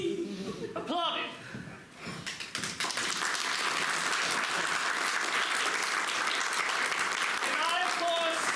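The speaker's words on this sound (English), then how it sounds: "The people attending the feast applauded." Audience applause at a live theater play, a dense burst of clapping that builds and stays steady after a brief quieter moment at the start, with scattered voices and some laughter mixed in.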